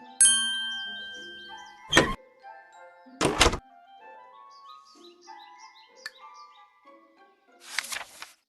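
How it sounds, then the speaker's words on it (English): Door opening sound effect in a fairy tale story: a chiming ding fades over light birdsong, then several hard wooden thunks and a final rustling burst, with chirps continuing between them and no talking. "Pull the string and the door will open."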